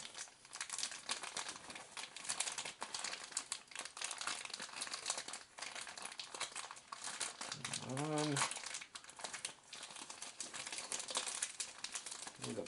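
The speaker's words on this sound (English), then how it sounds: "The package crinkling" Plastic package wrapping crinkles and rustles in irregular bursts throughout an unboxing of 6mm miniature terrain, faint and close, with a brief voiced sound partway through.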